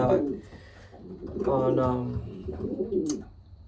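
Racing pigeons coo in soft, throaty bursts close by, a few rising and falling calls with brief gaps, mixed with some talking.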